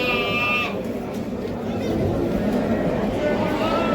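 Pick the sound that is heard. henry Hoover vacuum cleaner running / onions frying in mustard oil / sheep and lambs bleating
sheep and lambs bleating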